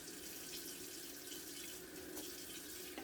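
Kitchen tap runs steadily into a sink while dishes are being washed, a continuous close splashing hiss with no break for the full few seconds.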